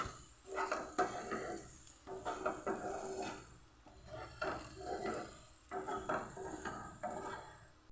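Sautéed potatoes seasoned with pepper powder are stirred in a pan for a capsicum-potato dish, with quiet, rhythmic bursts of scraping and turning separated by short pauses.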